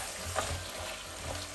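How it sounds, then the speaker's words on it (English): Roasted peanuts being stirred into a thickened sauce in a pan, a soft sizzle with a couple of scraping stir strokes, close and fairly quiet, with no talking. "I'm going to add in the roasted peanuts. Just give a quick stir."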